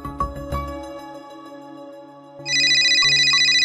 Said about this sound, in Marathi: ओवी हो जरा फोन बघ ना.